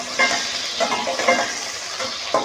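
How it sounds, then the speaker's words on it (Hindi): Potatoes frying in hot oil for aloo karela, a close, lively sizzle with rhythmic bursts of stirring or tossing roughly every half second, fairly loud and without talk. "ऑयल हमारा गर्म हो चुका है, ये आलू ये मैं इसमें डाल दूँगा"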